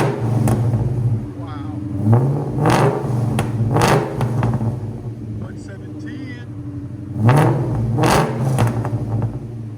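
Supercharged 2003 Ford Mustang SVT Cobra 4.6L V8 with headers and Borla exhaust, revved in a series of sharp blips over a steady idle, loud and close.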